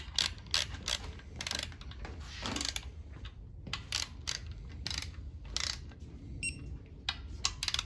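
Ratchet wrench clicking in repeated quick bursts while tightening the two back bolts on a Gen5 LT L83 5.3 V8 engine, close and fairly faint over a low room hum.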